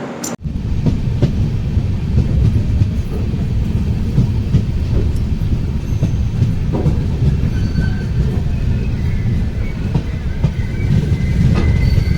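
A passenger train rolls steadily along the rails, loud and close, with a constant rumble, faint wheel squeals and rhythmic clacking over twelve seconds.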